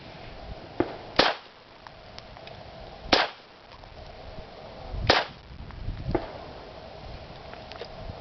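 Pistol shots fired at a target from a Beretta 81, CZ 50 or Browning 1911-380, three sharp loud cracks spaced about two seconds apart, each followed by a brief ringing tail, with faint handling noise between them.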